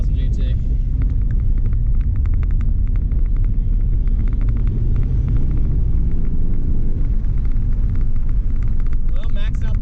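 A Mitsubishi 3000GT VR4 twin-turbo engine accelerates hard after years off the road, a loud, heavy rumbling drone from inside the car with a rising tone, and a voice speaks over it near the end.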